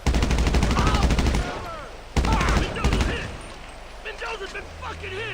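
Rapid bursts of automatic gunfire in GTA Online, loud and dense for over a second, then more shots mixed with in-game shouting and radio-style voices, with a sustained low rumble near the end.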